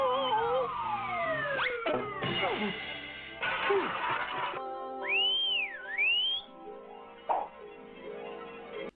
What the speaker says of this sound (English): Andy whistles for his halo to come back to him